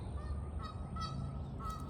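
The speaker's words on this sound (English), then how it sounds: "you can hear the geese because they're upset because I stood up, I guess." Geese honking repeatedly in short overlapping calls, moderately close, over a steady low background rumble.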